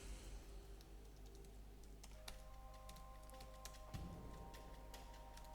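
Faint typing on a computer keyboard while writing Python code, a scattered run of soft key clicks over a low steady hum, heard from a quiet room.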